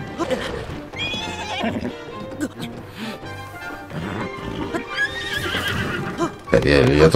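A horse in Zelda: Tears of the Kingdom gives repeated loud whinnies with clip-clop hoofbeats, set against game music and effects.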